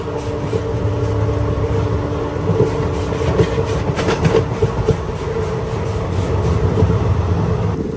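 Superfast train travelling from Dhanbad to Bhubaneswar, heard from inside the coach as a loud, continuous rumble and hum with faint rhythmic clickety-clack of wheels on rail joints, no talking.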